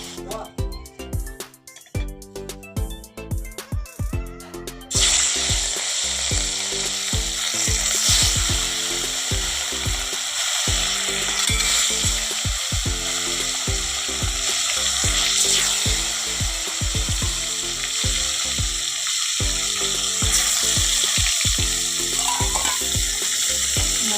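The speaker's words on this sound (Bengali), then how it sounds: "কড়াই একটা নিয়েছি তেলও দিয়ে দিয়েছি তেলটাও গরম হয়ে গেছে এবারে মাছগুলো ভেজে নেব" Pieces of catla fish hit hot oil in a wok and set off a loud, steady sizzle close by, after a few seconds of rhythmic tapping and clatter at the start.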